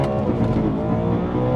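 A tuned BMW M3 E92 with a DCT gearbox launches hard with slight wheelspin, its engine roaring loud and close in a dense, sustained growl that holds steady for the full span.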